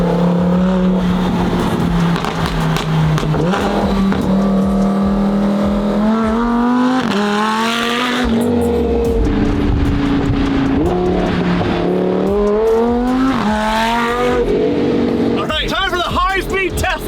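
Supercharged widebody Lamborghini accelerating hard on its first drive, a loud engine climbing through rising revs with gear changes, steady and close throughout, with people talking over it.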